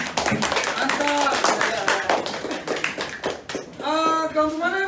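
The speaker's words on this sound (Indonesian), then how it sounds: "Beri tepuk tangan semuanya" A vocational school class claps together in a classroom, fairly close and brisk, with overlapping voices and some tonal calls mixed in as the clapping fades toward the end.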